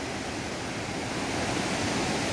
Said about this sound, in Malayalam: ഇതാണ് തൂവൽ വാട്ടർഫാൾസ്.